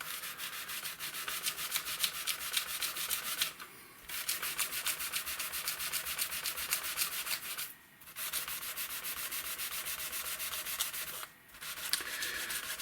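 Steady, rapid rubbing of 800 grit abrasive over the frets of a 20th Anniversary Squier Stratocaster, close and continuous in a fast back-and-forth rasp, pausing briefly three times between passes.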